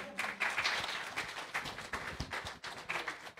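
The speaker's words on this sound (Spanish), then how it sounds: "Un aplauso." A small group claps briefly, with uneven, scattered claps close by and no one speaking.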